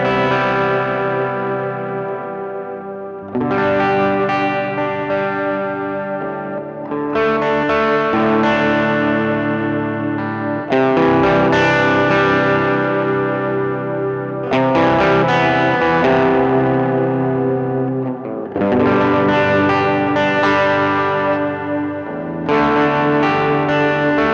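An electric guitar plays through a Hotone Verbera convolution reverb pedal, sounding loud, sustained chords with lush, washed-out tails that ring between phrases and carry on for over twenty seconds, with no talking.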